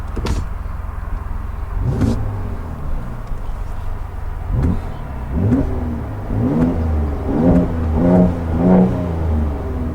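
A 2018 Mercedes-AMG C43 sedan engine idles and revs repeatedly in neutral, with sharp popping bursts from the exhaust scattered between the rising and falling revs.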